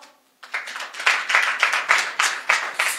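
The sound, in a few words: congregation clapping and cheering during worship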